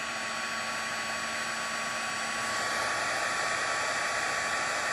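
A heat tool set to level 2 for melting embossing powder blows a steady, loud whooshing roar that holds unchanged throughout.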